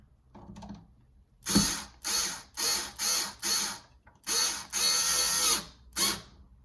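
An electric screwdriver drives screws into a doorknob in a run of about eight short whirring bursts with brief pauses between, close and loud, ratcheting toward the end.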